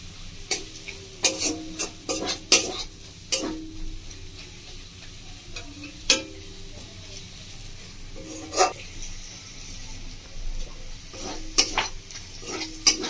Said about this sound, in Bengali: লো ফ্লেমে ভালো একটু ভালো করে কষিয়ে নেবো মশলাটাকে